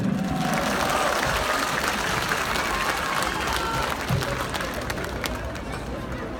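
An audience at a Victory Day celebration in Kemer, Turkey, applauds as the head of the town hall is introduced, steady dense clapping with crowd chatter underneath that fades slightly toward the end.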